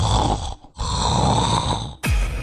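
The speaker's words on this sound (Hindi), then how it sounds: "किसी को सोने दोगे या फिर यूं ही कुंभकर्ण बने खर्राटे लेते रहोगे?" A sleeping man snores loudly and close in a comedy sketch: long, rasping, sustained snores with a brief breath gap, then a sharp sudden snort at the end.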